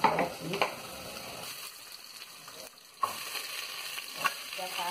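Meat sizzling in a pan with browned onion and garlic, crackling bursts and stirring scrapes that drop to quieter hissing, then flare up again when disturbed.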